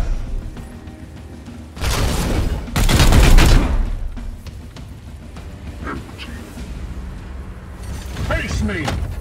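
Gunfire in Warhammer 40,000: Chaos Gate - Daemonhunters, a turn-based tactical game: a couple of heavy, booming bursts of shots close together, followed by quieter battle effects and a voice speaking.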